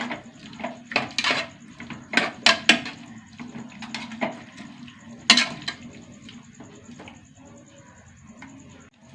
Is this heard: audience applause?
no